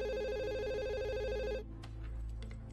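Telephone ringing with an electronic warbling ringtone, loud and steady for about a second and a half, then cut off abruptly, leaving faint background noise and scattered light clicks.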